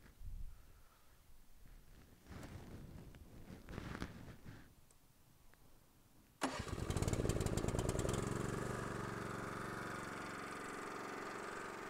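A 2002 LeeBoy L150 unit's motor turns over on electric start and settles into a loud, steady running drone while recirculating solvent in its tank, with quieter handling noises before it fires.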